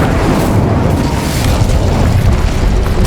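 Continuous booming blast noise from the Bombarda explosion spell in the Hogwarts Legacy video game, a dense, loud, sustained rumble with no clear gaps across the whole stretch.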